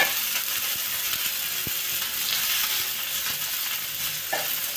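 Onion and green chilli for a roasted-brinjal bharit being stirred and mixed in a hot pan, giving a dense, even sizzle with scattered low knocks and scrapes from the spatula.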